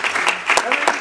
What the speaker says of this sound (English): let's give a wide applause to our speakers